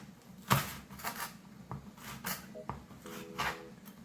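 A knife slices Cheongyang chili peppers on a cutting board for tuna kimchi stew, giving irregular, close, crisp cuts and scrapes with short pauses between strokes and no voices.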